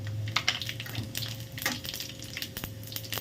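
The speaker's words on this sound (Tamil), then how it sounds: "இதோட வந்து சீரகம் போட்டுக்கிடுவோம்" Steady crackling sizzle of cumin seeds frying in hot oil, with scattered sharp pops and a faint scrape of a utensil stirring.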